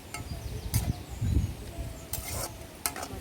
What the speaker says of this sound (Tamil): மட்டன் போட்டு நல்லா கிளறி விடணும்.